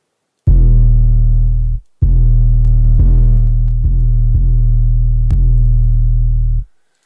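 Heavy, distorted bass notes of a trap beat made in FL Studio 12 throb loudly in long sustained blasts, broken by short gaps and punctuated by crisp percussive hits.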